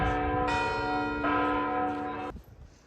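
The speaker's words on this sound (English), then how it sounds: "There's two churches going right at once," Loud noon church bells from two churches in Matera, Italy clang in overlapping strikes, more than one bell ringing at once, before the ringing cuts off and fades.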